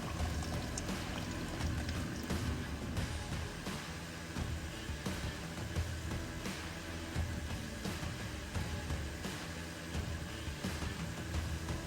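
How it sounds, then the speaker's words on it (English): Transmission fluid overfill draining steadily out of the standpipe on a 2016 Chevy Spark, a continuous close pour and trickle running without a break, with no talking. "This will let any overfill drain out."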